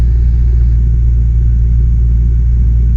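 Steady, loud low-pitched drone of a Cessna 172 piston engine held at 1800 RPM during a magneto check, a continuous rumble with no voices for the full three seconds.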